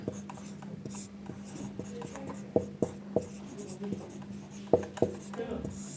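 A marker or chalk scratches across a board as the second condition of an algebra problem is written, a series of short strokes and taps under a continuous low hum, with a voice speaking in between.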